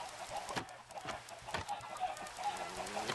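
Minecraft chickens cluck in short, scattered bursts over a soft background hum, several calls overlapping at moderate volume.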